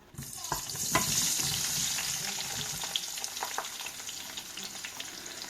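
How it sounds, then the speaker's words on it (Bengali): Marinated aubergine pieces hit hot oil in a pan, setting off a steady, close sizzle and crackle with a few sharp pops and the scrape of stirring throughout. "তেলটা হালকা গরম হয়ে আসলে আমি মেখে রাখা বেগুন এইখানে ছেড়ে দিচ্ছি"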